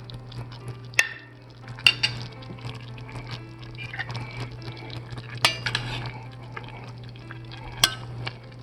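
Ground turkey, green beans and onion stirred together in a pan, giving a steady low sizzle with scraping utensil strokes and occasional sharp clinks against the pan.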